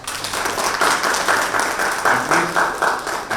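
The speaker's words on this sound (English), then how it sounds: "I think that deserves an applause." An audience applauds at a supply chain visibility conference, a loud, continuous burst of crowd clapping with a slightly pulsing rhythm and no talk over it.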